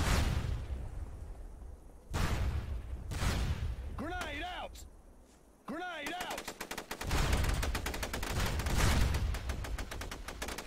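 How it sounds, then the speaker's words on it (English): Gunfire and a grenade blast in the SOCOM 2 online shooter: loud bursts and rapid automatic fire build to a dense volley at the end, with a voice talking between shots. "Grenade out!"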